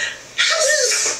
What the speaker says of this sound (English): and then obviously I see I'm sneezing